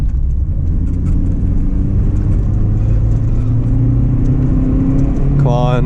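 An Acura RSX Base engine revs up, the low drone climbing in pitch toward the end with a sharper harmonic rise as it kicks into VTEC, with a voice talking over the engine.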